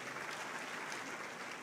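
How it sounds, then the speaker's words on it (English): An audience applauds at the opening ceremony of the Nigerian Society of Engineers conference in Ibadan, a steady, faint wash of clapping from a large crowd, heard from a distance. "Please give all of them a big round of applause"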